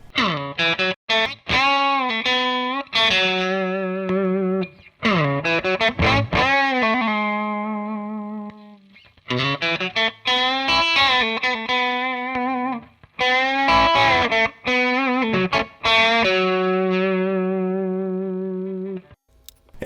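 Electric guitar driven hard through a Keyztone Exchanger pickup enhancer pedal, played as distorted sustained chords and single notes in several phrases with brief pauses between them, thick, ringing and loud with no talking.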